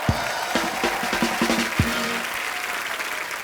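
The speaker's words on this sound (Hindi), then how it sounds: "एक बार अरशद भाई के लिए जोरदार तालियां।" A studio audience of a comedy talk show breaks into loud, sustained applause and some cheering, steady throughout, with brief musical notes and a voice briefly underneath.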